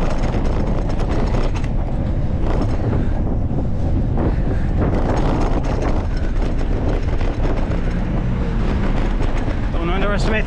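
Heavy, constant wind buffeting the microphone while cycling up a hill on a Boston route between West Roxbury and Roslindale, loud and unbroken, with traffic rumble underneath and a voice partly buried in it.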